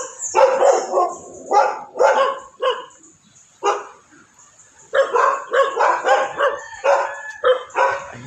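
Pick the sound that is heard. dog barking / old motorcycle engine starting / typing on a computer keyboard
dog barking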